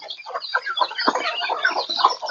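Chickens clucking close by in a rapid, continuous run of short, busy calls that overlap one another, loud and alone without talk.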